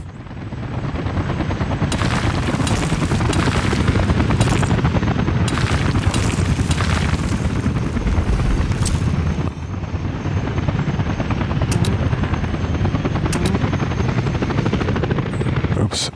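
Helicopters arrive in Workers & Resources: Soviet Republic, their dense rotor chop and engine roar steady and close throughout, with a few sharp clicks layered on top.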